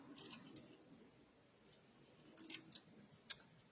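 Scissors cutting, a handful of faint, sparse snips, a couple early and a cluster near the end, with quiet gaps between.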